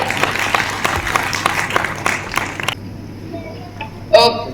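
An audience at a music launch event applauds the composer and lyricist, a loud burst of clapping that drops off abruptly partway through, leaving a quieter room with a brief noise near the end.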